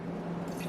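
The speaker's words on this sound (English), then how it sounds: "So I'll go ahead and pour in a cup of water" Water is poured into an Instant Pot, a brief, quiet, close wash of splashing liquid lasting under a second.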